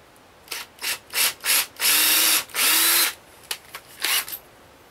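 Power drill pre-drilling a wooden board for a storage closet in a tiny house, a series of short, close revving bursts with two longer runs in the middle, heard alone.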